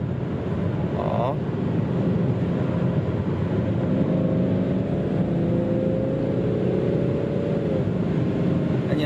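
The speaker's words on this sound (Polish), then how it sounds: "Teraz widzę różnicę, bo silnik pracuje równo." A BMW 330 engine runs evenly, then accelerates, with a loud, continuous low drone whose pitch rises as the car pulls away.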